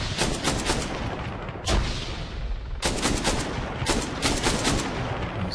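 Rapid rifle gunfire in the video game Arma 3 comes in several sharp bursts and single shots, loud and close, separated by short pauses, with no talking.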